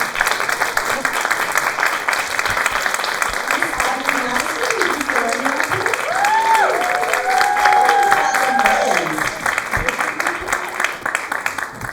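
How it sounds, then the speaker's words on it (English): Audience applause at a dance-and-aging talk event fills the room steadily, with crowd noise and some talking and vocal sounds rising over it midway. "Please give a round of applause for Ashton."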